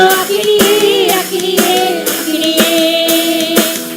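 A church congregation claps hands in steady rhythm during early-morning prayer, about eight sharp claps over four seconds under loud sung or chanted voices.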